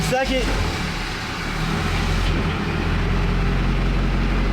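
A Duramax diesel truck engine runs with a deep, steady rumble as the transmission shifts into second gear. A voice is heard briefly at the start.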